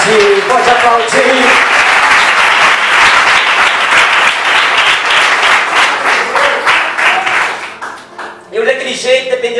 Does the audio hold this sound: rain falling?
no